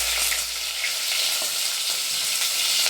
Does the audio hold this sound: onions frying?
yes